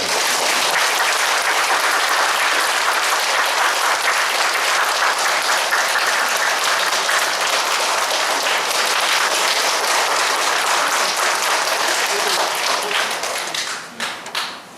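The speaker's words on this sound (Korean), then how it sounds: "큰 박수로 시부님 모시기 바랍니다" An audience welcomes a priest to the stage at a church gathering with loud, sustained applause, an even dense roar of clapping that lasts about thirteen seconds before thinning into a few scattered claps.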